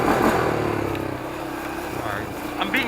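A Honda motorcycle revs hard for a wheelie, its engine loud and sustained, easing slightly before a sharp rise near the end, with a voice speaking over it.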